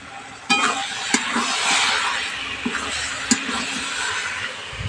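Spiced cabbage being stirred and mixed in a pan while it fries, giving a steady soft sizzle with a few sharp scrapes and taps of the spoon against the pan.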